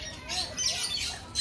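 A bird squawks at Guwahati Zoo, harsh calls that repeat through a short stretch against steady outdoor background noise, close and fairly loud.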